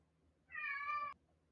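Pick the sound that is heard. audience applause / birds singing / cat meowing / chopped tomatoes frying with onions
cat meowing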